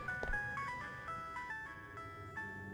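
A phone rings somewhere nearby in the horror video game Araya, a tonal electronic melody with repeating stepped notes over a low ambient game drone, with no talking.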